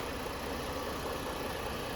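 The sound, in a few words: Ford 3.5 liter Duratec V6 engine running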